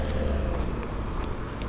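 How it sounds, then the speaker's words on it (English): Traffic rumbles along a downtown street in Los Altos as cars pass close by, a steady low road roar with faint higher swishes and no voices. "just a lot of cars passing by"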